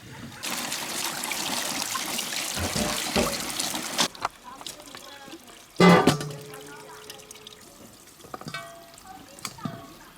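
Chili peppers being washed under running water, a steady trickle and splash for the first four seconds, then quieter handling with a sharp clatter near six seconds and faint rustling afterward.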